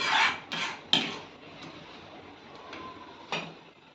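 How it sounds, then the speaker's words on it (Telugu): Mustard seeds splutter in hot oil in a pan: a handful of quiet, sharp crackles and pops spaced irregularly over a faint sizzling background. "ఈ ఆవాలు బాగా చిట్లాలి."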